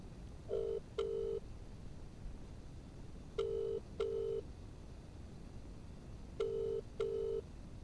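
Telephone ringing unanswered on a call, three pairs of clear electronic ring tones spaced evenly with silence between them, loud and alone with no talk.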